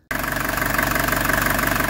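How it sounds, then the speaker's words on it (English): A 1982 Mercedes 240D diesel with a manual gearbox, just started after its engine bay was cleaned, settles into a loud, steady diesel clatter at idle with a constant rhythmic knock, heard up close and alone. "I just fired this thing up because after cleaning the engine compartment, I want the engine to come up to temp and dry off a little bit."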